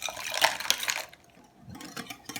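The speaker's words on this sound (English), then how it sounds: "Now that the gelatin is well dissolved, I'm going to add that cup of cold water." Cold water is poured into dissolved gelatin in a kitchen, making a brief close splashing pour followed by a quiet pause and a few soft clinks and drips.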